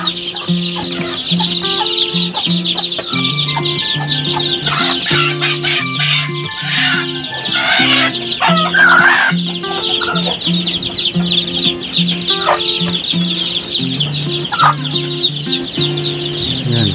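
Mother hen clucking steadily in low repeated notes among her chicks, with a dense layer of high chick peeping throughout, heard close and loud in a rural yard.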